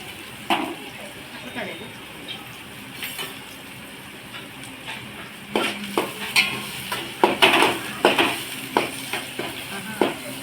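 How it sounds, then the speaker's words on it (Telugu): Thinly sliced onions and green chillies frying in a pan, a soft continuous sizzle broken by sharp scrapes and clinks of a spoon stirring, growing busier toward the end. "ఉల్లిపాయలు, పచ్చిమిరపకాయలు, 2 మీడియం సైజ్ ఆనియన్స్ అండి. ఇవి సన్న కట్ చేసుకొని వేసుకున్నాము."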